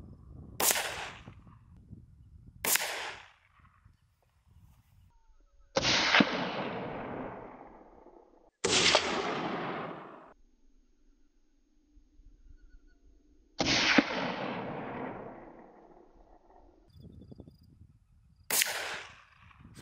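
Several sharp rifle cracks from a Howa M1100 chambered in 17HMR, fired at ground squirrels on rocks outdoors, each followed by a short trailing echo, spaced a few seconds apart with quiet between.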